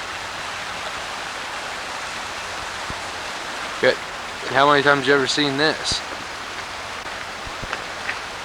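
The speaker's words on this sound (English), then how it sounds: "Just show you how much it's really been raining. The creek hasn't been this full in a long time." Steady broadband rush of heavy rain and a swollen creek flowing hard outdoors, continuous throughout, with someone speaking briefly in the middle.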